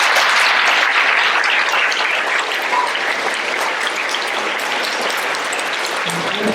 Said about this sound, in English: Let's give a round of applause for our third grade students.